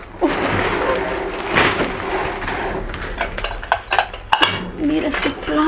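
Ceramic Halloween plates are handled and knocked together, giving clattering clinks and scrapes with sharper knocks toward the end, close by; someone speaks briefly in between.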